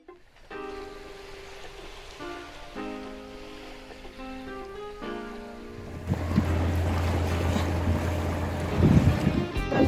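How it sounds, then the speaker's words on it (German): An electric boat cruises on Lake Tegernsee in Bavaria. The steady low hum of the boat and rushing wind and water noise grow louder in the second half, after a quieter tonal opening, and no one speaks. "Wir sind mit dem Elektroboot unterwegs."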